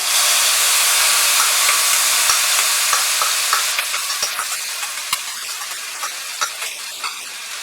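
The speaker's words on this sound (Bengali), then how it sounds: "যে মশলার পেস্টটা আমি তৈরি করে রেখেছিলাম, আঁচটা কমিয়ে সেই মশলার পেস্টটা আমি দিয়ে দিচ্ছি।" Spice paste sizzles and hisses steadily as it is stirred in a pan over lowered heat, with soft scraping ticks of the spoon growing more frequent toward the end; no voices.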